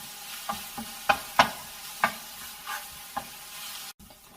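Ginger, green chili, garlic and onion with curry leaves being sautéed in a pan, with a spatula scraping and stirring in irregular close strokes over a faint steady sizzle.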